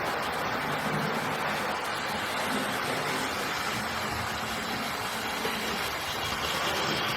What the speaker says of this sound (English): It's a nice little tender powered locomotive going around there now.